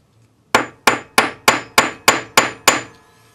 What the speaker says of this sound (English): and hammer the full length to half its thickness.